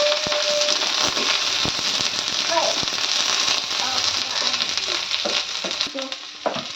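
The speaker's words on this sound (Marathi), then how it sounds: "हा तेला चांगला परतवून घ्यायचा कांदा" Onion sautéing in oil in a pan for a soybean curry, a close, continuous crackling sizzle with scattered spatters and stirring knocks while someone talks over it.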